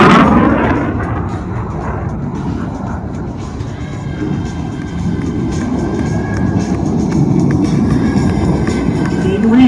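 A Thunderbirds jet passes right overhead at an airshow, a loud, sustained broadband roar that swells and holds steady across the whole span, with crowd noise mixed underneath.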